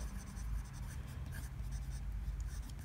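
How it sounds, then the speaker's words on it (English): A steel broad-nib fountain pen scratches softly across paper in short strokes, faint and close, over a low background hum. "let's do a very quick writing sample just so you can see it in action"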